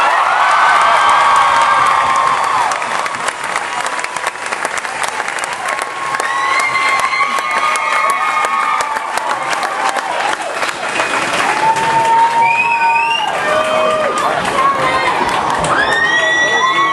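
A large crowd of families cheers and whoops loudly at Fort Jackson Family Day, a continuous roar of shouts and clapping with high voices rising through it.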